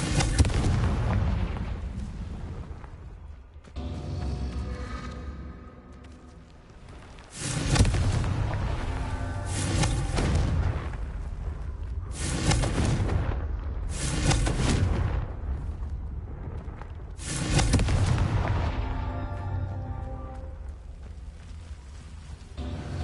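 Confringo spell blasts in Hogwarts Legacy, about five loud, booming explosions spaced a few seconds apart, each with a rumbling tail that fades before the next, no talk over them.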